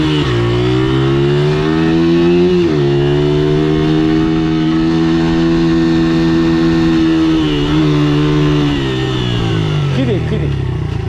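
A motorcycle engine drones steadily and loudly while riding through Echo Park, its pitch rising and falling slightly with the throttle. A rider's voice talks over it throughout.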